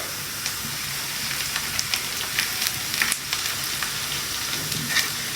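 Onions frying in a pan until brown, a steady close sizzle with scattered crackles and a few light stirring scrapes throughout.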